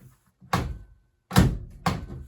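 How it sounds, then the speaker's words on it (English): The door of a Miele washing machine being shut, giving three solid thunks in a quiet room: a light one, a heavier slam, then a last firm close. "Does the door close?"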